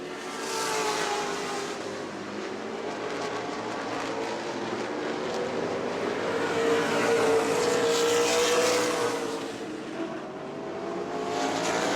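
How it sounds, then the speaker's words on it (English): Modified race cars roar around the New Smyrna track, engine noise swelling and fading as the pack passes at a distance, a continuous racing drone with no talk over it. "Nelson going to come around to lap 45, looking for that first new Smyrna win"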